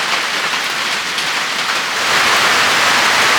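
Heavy rain pours down in a loud, steady hiss by a blacksmith's anvil, drumming on surfaces nearby and growing slightly heavier toward the end.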